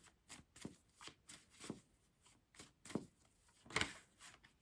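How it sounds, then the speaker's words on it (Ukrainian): Soft, close-up card sounds: a series of brushing slides and light snaps as tarot cards are pulled from a deck, irregular and quiet. "З кожної колоди я витягую по три карти."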